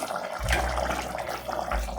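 Water poured into a cooking pot for mixed biryani, a steady gushing splash that starts abruptly and runs continuously at close range.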